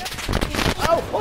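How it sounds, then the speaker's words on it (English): Rapid bursts of gunfire ring out in a Garry's Mod war game, several sharp shots in quick succession over about a second, with faint tonal game sounds mixed in. "Oh, I'm getting shot at!"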